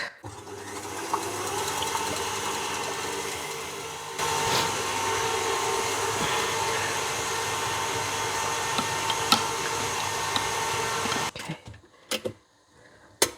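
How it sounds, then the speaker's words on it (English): An electric whisk beats two egg whites for a South African milk tart, a steady loud motor whir running unbroken for about eleven seconds, with a slight change in pitch partway, before it cuts off into brief clatter and quiet. "My egg whites are going into here, just the 2 egg whites, and giving it a whisk."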